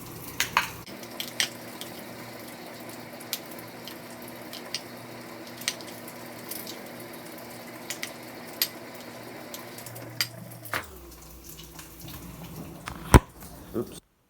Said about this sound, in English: we're gonna throw this on the fryer right now using that same bacon grease that we're getting from the bacon right now